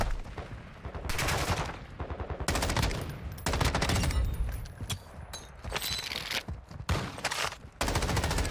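Heavy gunfire in Call of Duty DMZ, with dense, loud bursts of automatic fire and rapid shots repeating almost without pause, close and harsh throughout.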